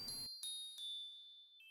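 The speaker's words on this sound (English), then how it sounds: "Then we have this glockenspiel, which is like a very high-pitched metallic bell sound." Sparse, high-pitched metallic glockenspiel strikes accent a film score, a few bright ringing notes sounding alone and decaying into near silence.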